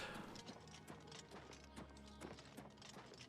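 Hooves clop in a steady rhythm as a horse moves in the video game Oblivion Remastered, close and fairly soft over a faint game ambience, with no speech.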